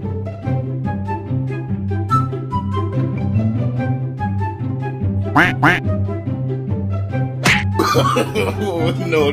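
Repeated nasal quacks sound in a rapid, fairly loud series, likely a voice imitating a duck, broken by a couple of sharp slap-like bursts near the middle and end.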